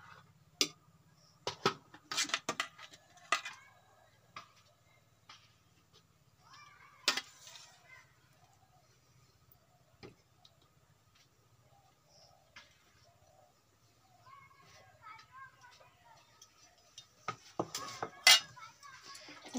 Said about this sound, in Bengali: আমি এখন বাটা মাছের কষা দিয়ে দেব,